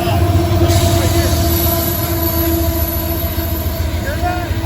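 A freight train with a hot-running locomotive rolls past nearby with a continuous heavy rumble and steady tonal whine, faint wheel squeals along the rails, and a voice speaking over it.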